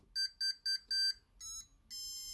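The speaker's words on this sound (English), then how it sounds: "We're going to hope we hear those familiar Tronxy beeps." A Tronxy 3D printer running Chitu firmware beeps at startup: four short, evenly spaced electronic beeps, then two longer tones, clear and fairly close in an otherwise quiet room.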